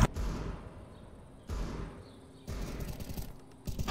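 Gunfire from Counter-Strike: Global Offensive in a competitive match, with three separate bursts of rapid shots at moderate loudness. Each burst sounds sharp and clattering, and the bursts are spaced about a second and a half apart.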